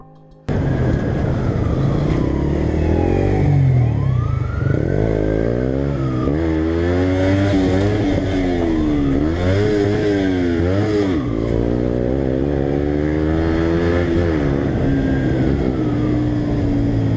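A motorcycle speeds away from police on the road, its engine revving loud and close through repeated rising and falling gear pulls for the whole stretch, with no talk.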